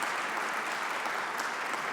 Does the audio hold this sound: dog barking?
no